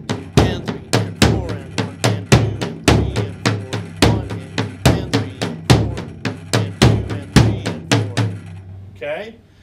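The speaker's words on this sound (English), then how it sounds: "They're going to play it on the floor tom. They're going to do the accents." Slow floor tom accents with bass drum on a drum kit, a steady beat of about two dozen evenly spaced, close, loud hits, each with a booming low ring and sharp attack, playing alone.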